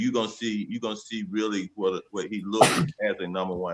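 A single sharp sneeze bursts out in the middle of ongoing male speech during a basketball post-game talk show, brief and loud with talk continuing before and after.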